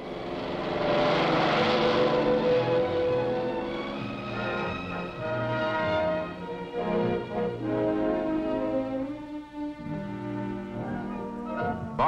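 A propeller airplane drones overhead, the source of a ball dropped for catching. Its loud engine roar swells early, holds steady, then wavers and thins toward the end, with no voices.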